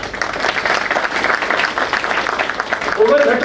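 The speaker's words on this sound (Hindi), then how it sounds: "अपने लिए ताली बजाना, मेरे लिए नहीं" An audience claps steadily through a dense, continuous round of applause, with a voice faintly present underneath.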